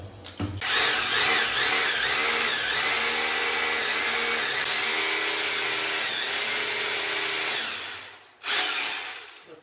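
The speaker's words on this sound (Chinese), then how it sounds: "用玻璃钻头打好孔以后，直接就上冲击钻来打" An impact drill fitted with a glass drill bit bores into a wall beneath a cabinet, a loud continuous whining grind lasting several seconds before winding down, then a brief restart.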